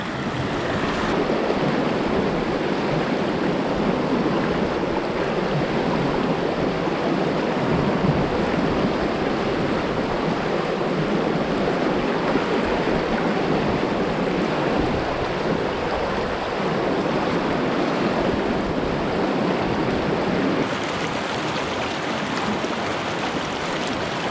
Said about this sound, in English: a lot of water moving through here.